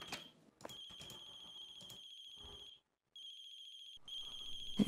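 A phone rings downstairs in a video game, giving a steady electronic tone in repeated bursts with short gaps and a clear pause near the middle, heard alone without voices.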